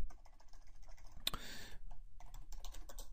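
Quick, uneven keystrokes tapped on a computer keyboard, close and fairly quiet, with a brief louder clack partway through and a short pause before the typing resumes.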